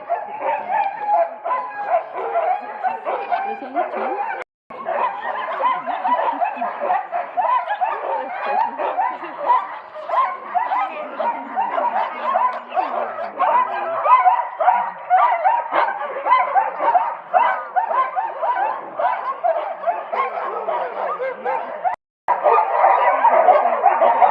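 A sled dog mushing team in Denali barks and yips continuously, a dense excited chorus of many dogs close by that keeps up with barely a pause.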